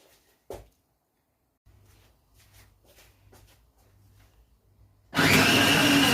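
An electric grinder blitzing the ingredients for a beef ragu bursts into a loud, continuous whirring roar at the end, after a stretch of quiet low hum and a few light clicks and shuffles of preparation.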